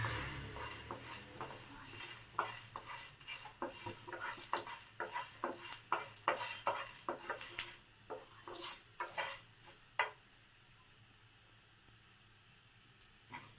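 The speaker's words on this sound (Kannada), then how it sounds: "ಇದನ್ನೆಲ್ಲ ಚೆನ್ನಾಗಿ ಲೋ ಫ್ಲೇಮಲ್ಲಿ 2 ನಿಮಿಷ ಫ್ರೈ ಮಾಡ್ಕೊಳ್ಳಿ" Whole spices, including coriander, fry on a low flame for a mutton sukka. A utensil stirs them with quick light clinks and scrapes against the pan over a faint steady background hum, then the stirring thins out toward the end.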